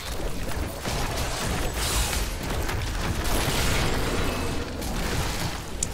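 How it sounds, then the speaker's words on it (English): Corpse explosion skill going off in Diablo 3, a dense, continuous roar of bursting blasts and crunching debris, loud and sustained throughout without speech. "We'll kill one, then we do a corpse explosion."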